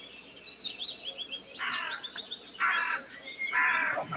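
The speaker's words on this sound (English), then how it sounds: "Oh my God, that crow's back, Debbie." A crow calling outdoors, three harsh caws spaced about a second apart over faint chirping of smaller birds, fairly near and clear without talk.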